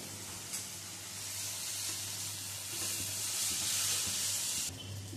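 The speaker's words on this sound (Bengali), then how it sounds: "বেগুন দিয়েও বেগুনটা ভেজে নেব।" Diced eggplant, salted and dusted with turmeric, fries in mustard oil in a kadai, giving a steady, close, dense sizzle that holds throughout with no talking.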